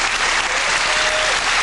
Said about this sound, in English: the crowd cheering both of these competitors on